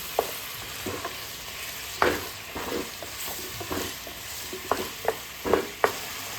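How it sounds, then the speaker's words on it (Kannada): Ginger garlic paste fries in a pan, a soft continuous sizzle broken by repeated scraping stirs of a spoon against the pan, close and fairly quiet with no talking. "ಶುಂಠಿ ಬೆಳ್ಳುಳ್ಳಿ ಪೇಸ್ಟನ್ನು ಆ್ಯಡ್ ಮಾಡ್ಕೋತಾ ಇದ್ದೀನಿ. ಇದನ್ನು ಹಾಕಿ ಅಲ್ಲಿ ಚೆನ್ನಾಗಿ ಫ್ರೈ ಮಾಡ್ಕೋತಾ ಇದ್ದೀನಿ"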